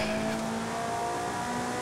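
Loud, steady engine note of a Ferrari F430 Scuderia with intake and exhaust upgrades in Forza Horizon 5, holding a constant high-pitched drone with tire noise throughout, no talking.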